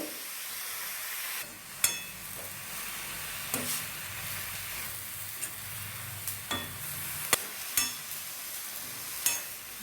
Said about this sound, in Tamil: நல்லா வதங்கட்டும் நல்லா வதங்கினோடனே காமிக்கிறேன் உங்களுக்கு